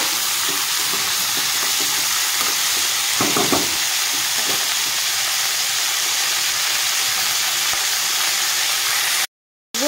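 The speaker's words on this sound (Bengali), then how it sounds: "তো এখানে ফুলকপিগুলো দেখো সুন্দর করে আমি ভেজে নিয়েছি।" Cauliflower and potato pieces fry in a pan with a loud, dense, continuous sizzle and hiss, a burst of spattering near the middle, then an abrupt brief cutout at the end.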